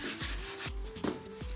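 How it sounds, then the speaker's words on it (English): Close, continuous orbital sanding of a spray-painted countertop: a rough abrasive rubbing with a steady motor-like drone underneath and periodic scraping strokes. "use like an orbital sander or something"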